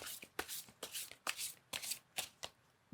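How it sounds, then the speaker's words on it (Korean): Tarot cards being shuffled by hand in a series of crisp riffling bursts, about seven quick flutters spaced roughly evenly, close and fairly quiet, with no talking. "자, 그러면 감정의 카드도 한번 또 뽑아보도록 할게요"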